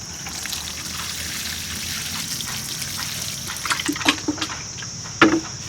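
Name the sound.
water poured into a plant pot with soil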